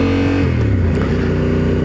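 Motorcycle and car engines rumble together on the road, a Honda Civic running close behind a 2025 Honda Africa Twin motorcycle, with a steady, loud engine drone and a shifting tone partway through.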